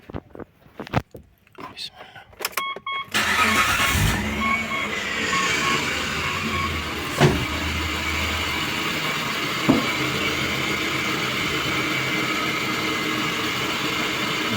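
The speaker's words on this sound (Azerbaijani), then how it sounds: "Avtomobil həqiqətən də arada bir nataraz işləyir, ara bir" After a few quiet clicks, an engine starts and runs nearby with a steady drone, broken by a couple of sharp irregular stumbles.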